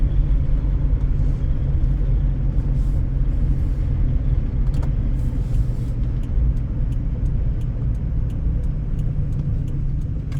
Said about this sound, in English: You can hear the exhaust is louder.